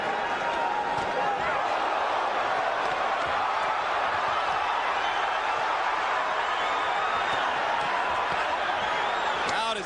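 Arena crowd at the Barrera vs Junior Jones boxing match roaring steadily throughout, a dense continuous wall of cheering and shouting with no pauses.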